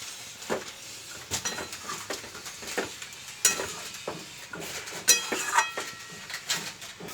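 Potatoes stirred with chicken kosha in a pot, with repeated scraping clatters of a spoon against metal in uneven bursts over a light sizzle, close by.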